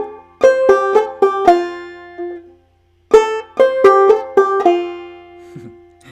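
A measure of Snowdrop on clawhammer banjo: two quick bursts of bright plucked notes in a brisk rhythm, separated by a short pause, each phrase ending on a ringing sustained note, close and alone.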